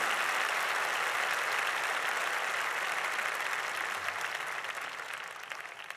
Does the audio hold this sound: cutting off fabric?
no